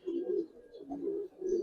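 Giribaz and Army pigeons coo softly in a steady run of low, rolling phrases, close and alone, with no other sounds intruding.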